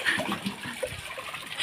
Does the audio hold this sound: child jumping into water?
yes